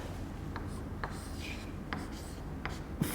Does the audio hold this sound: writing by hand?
yes